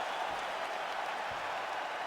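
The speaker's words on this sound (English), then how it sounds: "Stand and cheer, ladies and gentlemen." Crowd applause and cheering at the close of a five-round MMA bout, Miesha Tate vs Alexis Davis, a steady, dense roar of clapping and voices that holds evenly throughout.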